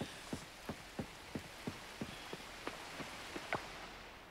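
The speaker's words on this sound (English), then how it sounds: "Right, it's raining." Steady patter of rain in the video game Coral Island, scattered individual drops tapping a surface at an irregular rhythm, soft and moderately close, no voices.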